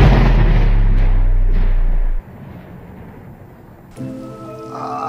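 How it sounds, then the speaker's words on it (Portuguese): Rain in a survival video game: a loud, dense rush of rainfall cuts off abruptly to a quieter hiss, and a brighter, steady pattering downpour returns a few seconds later. "esse barulho de chuva"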